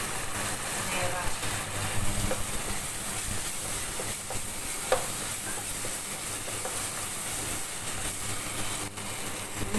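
Spice paste with red chili sautéing in hot oil for a Javanese-style chicken curry, a steady broad sizzle with occasional stirring clinks, continuous and moderately close throughout.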